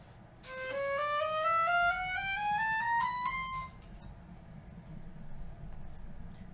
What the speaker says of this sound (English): they'll be arranged in what are called half steps